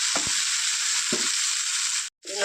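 Tomatoes and onions sauté in a pan for a spicy jackfruit seed chilli curry, a steady loud sizzle running throughout, with a few sharp spoon scrapes and knocks as the mixture is stirred, then a brief cut near the end.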